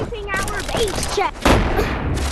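Game gunfire in Animal Company arena mode, a burst of rapid shots under excited voices from several players talking over one another.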